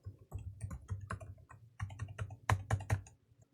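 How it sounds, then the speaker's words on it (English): Quick clattering keystrokes on a computer keyboard as a root password is typed, close and clear, in two short bursts separated by a brief pause, with no talking. "For the root password, I'll go ahead and type that in."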